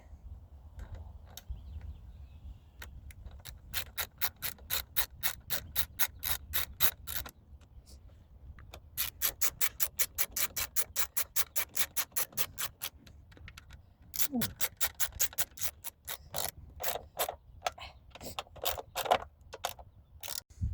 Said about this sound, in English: Tighten the nuts so the air box is nice and snug